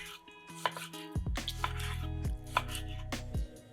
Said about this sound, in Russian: Берем 1 кг филе хека и нарезаем его на порционные кусочки.